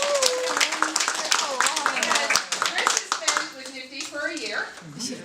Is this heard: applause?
yes